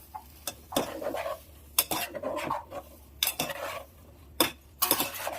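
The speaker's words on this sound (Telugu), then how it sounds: "చిక్కుడుకాయలు వేసుకొని మంచిగా కలుపుకోండి." A spoon stirring flat bean (chikkudukaya) curry in a metal pan, producing a series of sharp clinks and scrapes in irregular bursts, close and moderately loud, with no talking.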